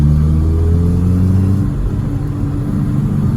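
A classic Mini's engine drones loud and close from inside the car as it corners around a roundabout, a steady mid-pitched rumble holding its revs without talk.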